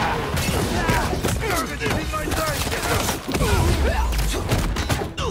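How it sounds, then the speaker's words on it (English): Rapid bursts of gunfire in the video game Marvel's Spider-Man 2, dense and loud, with overlapping thuds and action effects and a voice talking over the chaos. "Yes, please keep shooting your friends."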